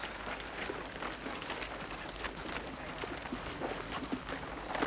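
Horse hooves clip-clopping steadily on hard desert ground, several animals moving at a walk in a continuous, moderately near rhythm without speech.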